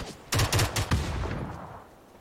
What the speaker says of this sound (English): Cover fire, Chris.